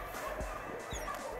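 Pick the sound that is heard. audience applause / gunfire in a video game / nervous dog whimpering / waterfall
nervous dog whimpering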